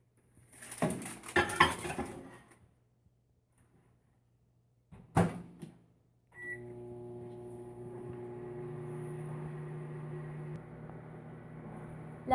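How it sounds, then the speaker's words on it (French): Homemade potato chips heat in a microwave oven: after a burst of clattering dishes and a door closing, the oven starts with a steady low electrical hum and whir that runs on alone. "on va aller faire chauffer nos chips de patates pendant 5 minutes"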